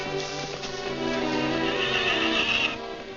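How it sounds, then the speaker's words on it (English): Horses neighing in an old 1943 Western film, a loud shrill whinny rising over a busy outdoor scene. "Hurry up with them horses."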